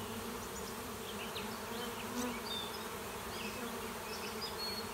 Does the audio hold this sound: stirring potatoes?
no